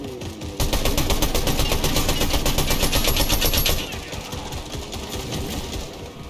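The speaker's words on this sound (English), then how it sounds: "I'm trying to shoot at them with an SMG" SMG fire in Fortnite, a loud, rapid rattling burst of automatic shots lasting about three seconds before dropping to quieter game sounds, with no voice over it.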